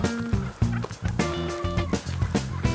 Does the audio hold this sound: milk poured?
no